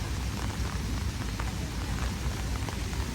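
Steady rain falls at night outside the ICONSIAM shopping complex in Bangkok, a continuous dense hiss with light patter close by and a low rumble beneath, unbroken for the whole stretch with no voices.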